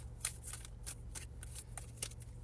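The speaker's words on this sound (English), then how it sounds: "I just shuffled and these same 2 cards came out." Tarot cards are shuffled close by in quiet, soft bursts of riffling and flicking that repeat in a loose rhythm, with no voices.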